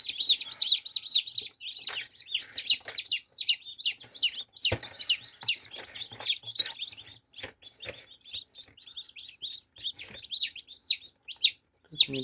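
Newly hatched chicks peep in an incubator with some eggs still pipping, a rapid run of high, close chirps, loud at first and then thinning into sparser calls.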